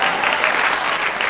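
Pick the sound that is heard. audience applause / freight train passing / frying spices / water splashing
audience applause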